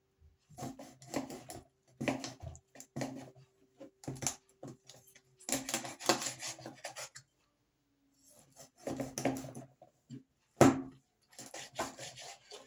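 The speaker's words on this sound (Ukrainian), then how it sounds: "Ось я буду різати зараз на брусочки." A knife cuts pollock into strips on a board in short bursts of rasping, chopping strokes with brief pauses, close and fairly clear, with no talking.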